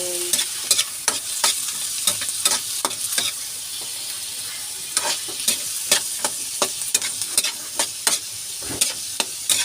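Pechay stalks sautéed in a pan for ginisang gulay with misua, a steady sizzle punctuated by frequent sharp scraping clicks of a utensil stirring, close up with no talk.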